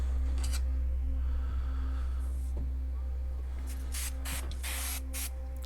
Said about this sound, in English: let's give it a good drowning in some foam cleaner